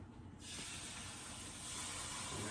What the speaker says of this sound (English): let's add this cup of cold beef broth